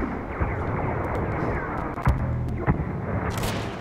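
Gunfire in Star Wars Battlefront, a dense steady roar of battle with a few distinct sharp shots standing out near the middle.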